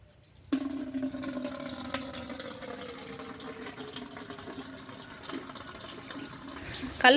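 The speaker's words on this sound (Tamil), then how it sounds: "நம்ம பைப்பு வந்து இந்த இடத்துல வச்சது கொஞ்சம் ஈஸியாக இருக்குது இப்போ தண்ணியெலாம் பிடிச்சி வைக்கிறதுக்கு" Water runs steadily from a pipe into a container outdoors, a continuous close gushing stream that starts abruptly and fills without pause, with a slight surge at the end.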